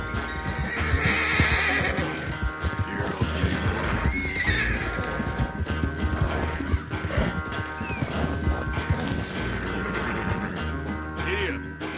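Horse galloping in Red Dead Redemption 2, with steady clip-clop hoofbeats running throughout and several loud neighs and whinnies, plus game music and ambience underneath.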